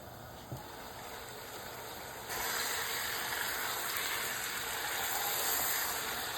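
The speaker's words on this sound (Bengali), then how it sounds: "এবার চিকেনটাকে একটু কষাবো।" Chicken sautés in a pan for biryani with a steady hiss that grows louder partway through, as if the heat rises or the meat is turned. There is one small knock early on and no talk.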